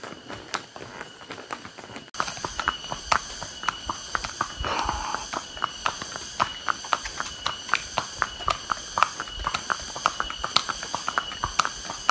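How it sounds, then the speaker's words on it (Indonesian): Horses walking along a forest park trail at Tahura Djuanda in Bandung, with steady clip-clop hoof beats repeating throughout, close and fairly loud over outdoor ambience. "kalian bisa naik kuda"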